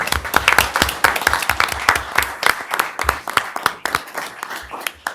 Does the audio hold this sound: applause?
yes